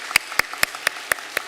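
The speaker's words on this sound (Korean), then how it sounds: "귀한 가정 등록해 주셨는데 박수로 환영하도록 하겠습니다" A church congregation claps in welcome for newly registered families during a Sunday worship service, six crisp, evenly spaced claps in quick rhythm with brief quiet between them.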